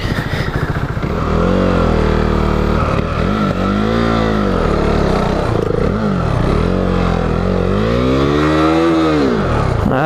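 A KTM 390 Duke single-cylinder motorcycle revs hard as it drifts through snow deeper than its skid plate, engine pitch rising and falling in repeated loud sweeps up close.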